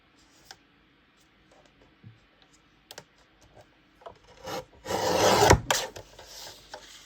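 Paper for a handmade journal cut with scissors: a few faint clicks and small handling taps, then a louder rasping slice of the blade through the sheet, close up.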